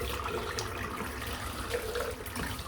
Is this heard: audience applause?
no